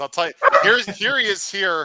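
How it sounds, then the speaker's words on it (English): A pet dog named Mason yips and barks in a home, short excited yelps mixed in with someone talking over it. "Oh, sorry about my dog"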